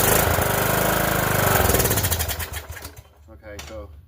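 A Cub Cadet LTX1045 lawn tractor with a 46-inch deck, carburetor trouble, its small engine running loud and steady with a buzzing drone, then sputtering and fading toward the end as people talk nearby.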